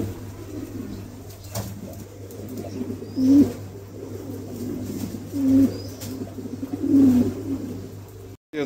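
Pigeons kept for sale give three soft, low coos, spaced a couple of seconds apart, close by over a steady low hum and faint background noise.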